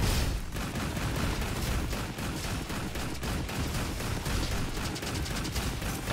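Rapid, continuous blasts from the Sulfator shotgun in the Roboquest video game, a dense, loud, unbroken barrage of close shots and impacts with no talk.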